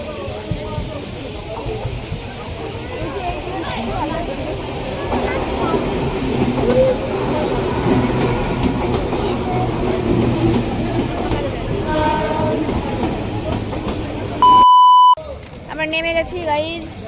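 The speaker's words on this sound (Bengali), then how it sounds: "আমাদের ট্রেন চলে যাচ্ছে" A train rumbles as it departs a crowded station, with a crowd talking loudly over it; near the end a sharp electronic beep sounds briefly before the rumble continues.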